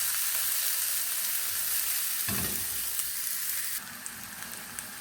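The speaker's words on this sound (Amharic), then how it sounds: "ሽንኩርት ጨምሬያለሁ እዚህ ጋር" Onions frying in a pan for a light breakfast dish, a steady close hiss of sizzling oil throughout with a brief stir around the midpoint and the sizzle dropping slightly softer near the end.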